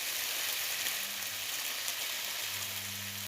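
Lamb chops sizzle steadily in a hot pan with garlic, a continuous broadband crackle holding even and close throughout, with a faint low hum beneath.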